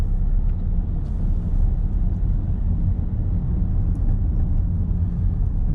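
A car driving along a road on a Coventry driving test route, with steady low engine and tyre rumble running continuously throughout, no voices.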